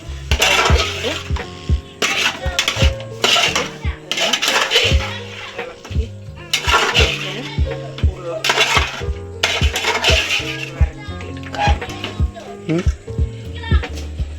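Fried potatoes tipped into a pot of cooking chicken produce repeated loud metallic clanks and scrapes of a spoon against the pot, arriving in irregular bursts up close.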